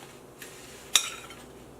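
Beef pieces for stew tossed in a bowl to coat them, giving a soft rustle and one sharp utensil clink, quiet and close with no talking.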